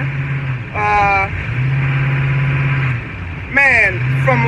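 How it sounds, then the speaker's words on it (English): From inside a loud truck, a steady low engine drone runs continuously and close while someone talks over it. "I'm on this loud truck."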